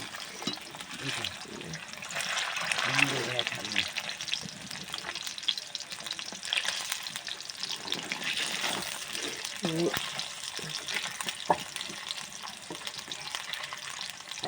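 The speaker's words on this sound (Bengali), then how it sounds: "এই পাঁচটা ভালো করে ভেজে নি" Pieces of shol (snakehead) fish fry in hot oil with a continuous, moderately quiet sizzle, broken by occasional scraping and stirring sounds from the pan and faint background voices.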